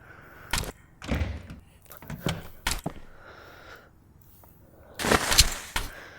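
A door is opened during a room-breaching drill, heard as several close, sharp thuds and knocks spread through the stretch, ending in a louder burst of handling noise.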